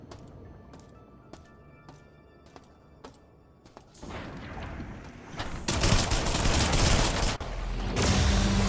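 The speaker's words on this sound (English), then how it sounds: "here's just 3 very powerful shots" Gunfire in the System Shock video game, beginning with sharp, evenly spaced single shots and then swelling into a dense, loud burst of blasts.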